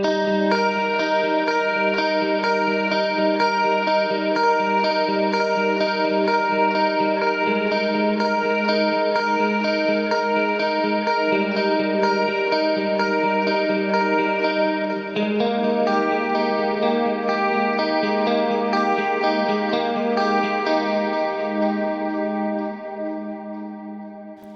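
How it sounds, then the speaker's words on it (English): An 1980s-style electric guitar solo soaked in chorus effect, bright sustained notes with shimmering modulation playing continuously at steady loudness, with no voices, fading slightly at the very end. "we listen to the 80s guitar also solo"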